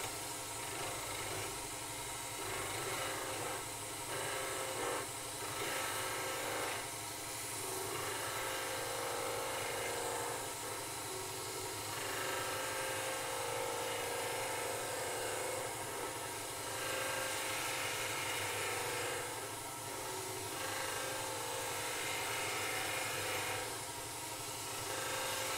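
A goblet turning on a wood lathe while a spindle gouge cuts: a faint continuous motor hum with repeated soft, hissing cutting passes in a loose rhythm.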